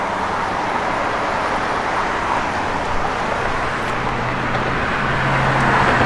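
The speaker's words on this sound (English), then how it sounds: "Fortunately, with the traffic out here." Road traffic passing outside makes a continuous roadway rumble and hiss at a fairly loud level. A low engine drone rises near the end as a vehicle goes by. Nobody speaks.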